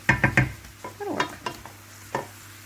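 Brussels sprouts, some garden-fresh and some store-bought, stirred in a frying pan: a few quick scraping knocks of the utensil, then softer shuffles over a faint sizzle, close and without talk.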